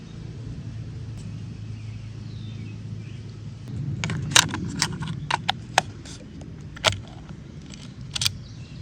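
Mounting screws are driven into a roof rack on a Volkswagen ID4, giving a scattered series of sharp metallic clicks and ticks over a steady low outdoor rumble, with a quiet stretch before the clicking starts.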